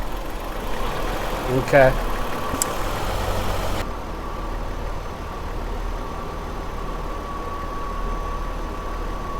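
A Ford Escape engine idles steadily under 1,000 rpm with its idle air control valve disconnected, a low, even drone, while a voice speaks briefly near the start.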